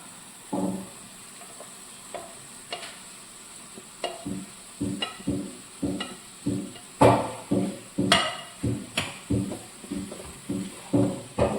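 Green peas, beans, potato, cauliflower and carrot are stirred in a pan, producing a steady run of scraping, clattering strokes about every half second. A faint sizzle runs beneath the strokes, and the stirring grows busier toward the end.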